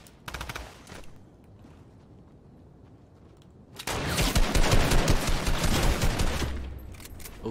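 Fortnite shotgun and fire SMG gunfire: a short rattling burst at the start, a quieter lull, then a long, loud, sustained stream of rapid shots filling the second half.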